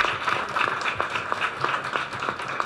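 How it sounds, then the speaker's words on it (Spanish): An audience breaks into sustained applause, a dense, even patter of many hands clapping from a hall, continuing without letup and without voices over it. "un aplauso a todas las mujeres por este logro"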